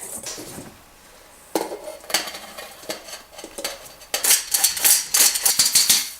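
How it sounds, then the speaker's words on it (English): Cocoa powder being mixed into red velvet whoopie pie batter in a bowl: a quiet start, then quick, irregular clinks and scrapes of a utensil against the bowl that grow busier and louder toward the end, with no voices. "Now let's give that all a nice mix until everything's evenly incorporated."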